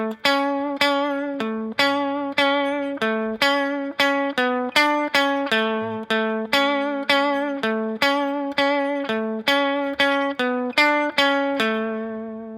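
Electric guitar plays a song, a steady run of clear plucked notes and chord stabs in even rhythm, close and alone with no talking, the last note ringing out.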